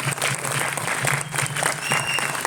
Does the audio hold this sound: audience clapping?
yes